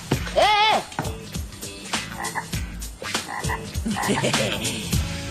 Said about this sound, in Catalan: Com es criden les granotes? Rauc?